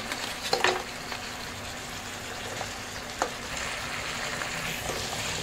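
Fried vegetables being mixed into a watery spice paste in a pan for shukto, a gentle, steady sizzle with a few brief scraping knocks of the spoon, quiet and close, with no voices.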